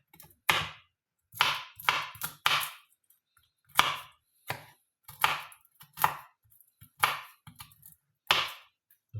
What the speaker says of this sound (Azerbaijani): Bu şəkildə xırda-xırda qoz ləpəmizi doğrayırıq.